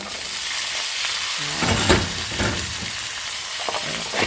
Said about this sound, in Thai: ผัดนะคะ